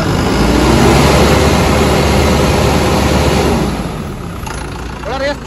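A loud, steady Bobcat skid steer loader engine drones at high revs, then eases off near the end, with a voice calling out over it.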